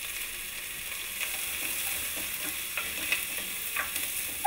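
Ginger, garlic and onions sauté in olive oil in a pan, a soft, steady sizzle with occasional faint stirring scrapes, fairly quiet and without speech.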